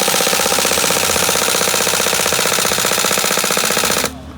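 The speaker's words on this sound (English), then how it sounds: "I show you how we shoot this gun. Okay, semi-auto, shoot, full auto." An airsoft SR16 AEG fires full auto at an exhibition, a loud close continuous rattling burst of rapid shots lasting about four seconds before stopping abruptly.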